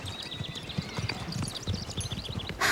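Animated horse's hooves clip-clop steadily at a brisk, even rhythm, close and clear, with no talk over them and a bright burst of noise at the very end.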